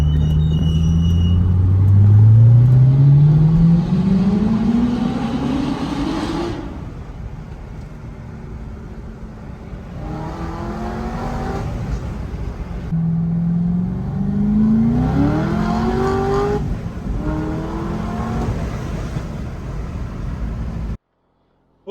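A Chevrolet Corvette ZR1 with a supercharged LS9 V8 is driven hard. Loud engine revs climb through several gear pulls, with the rising whine and rumble falling back between shifts before cutting off at the end.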